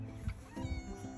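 A cat in a spring vegetable garden gives a short, quiet meow, then a second soft drawn-out call close by.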